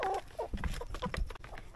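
A Light Sussex chicken clucks close by in a few quick, throaty bursts against a quiet farmyard background.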